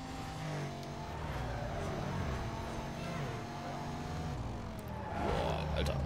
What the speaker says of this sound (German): Hat sich gerade so angehört, als hätte der irgendwie so einen V12-Motor, der BMW